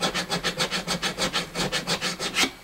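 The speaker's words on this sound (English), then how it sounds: "these files are fast, man. Super fast. They're diamond grit." A diamond grit file dressing guitar frets, heard as about a dozen quick, evenly rhythmic rasping strokes, close up and moderately loud, with no talk.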